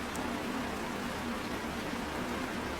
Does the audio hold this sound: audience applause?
no